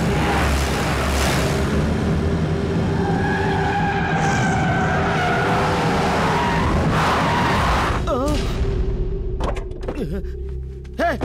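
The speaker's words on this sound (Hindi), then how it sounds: "गाड़ी घुमा, गाड़ी घुमा, गाड़ी घुमा जल्दी से।" A car skids and swings around during an action-movie chase, a long loud tire squeal with engine roar, followed by thumps and door-like knocks near the end; shouting voices sound over it.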